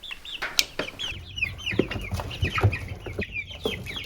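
Chickens cluck and chirp close by in a backyard setting, a busy overlapping flurry of short calls with some louder squawks rising over low background rustle.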